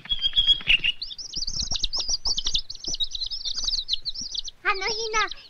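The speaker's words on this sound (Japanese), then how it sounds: "親鳥だよ、きっと。" A parent bird chirps in shrill, rapid trills, with a further burst of calls near the end. Voices and soft clatter sit beneath the song.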